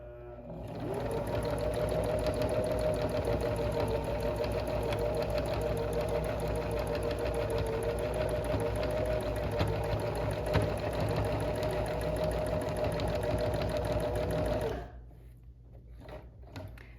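Domestic sewing machine stitching continuously for free motion scalloped quilting, a loud, steady, rapid needle chatter with motor whine that runs unbroken for about fourteen seconds before stopping abruptly into quiet.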